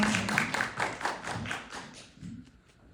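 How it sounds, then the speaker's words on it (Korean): An audience at a film screening talk with the director and an actor claps in a small room, a quick run of hand claps that thins out and dies away after a few seconds. "큰 박수 부탁드리겠습니다"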